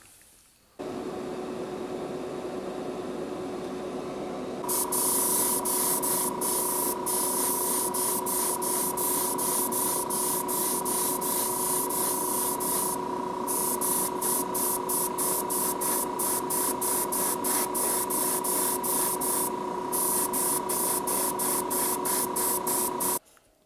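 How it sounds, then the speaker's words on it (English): A spray gun hisses in long continuous bursts while painting a 1950 Mercury car body, close and loud, with rapid pulsing as the trigger works, over a steady compressor hum. "Cool, we're ready to spray here."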